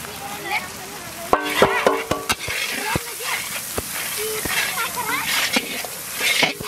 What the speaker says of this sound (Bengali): আলু দিয়ে একসঙ্গে কষিয়ে দেব।